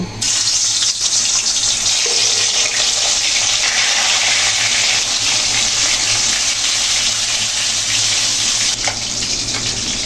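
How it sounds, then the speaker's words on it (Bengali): Taki fish fries in hot oil in a kadai on a stove. A loud, steady, dense hiss and sizzle runs close up and unbroken, with no talking. "তেল গরম হয়ে এলে পর মাছগুলো ভেজে নেব"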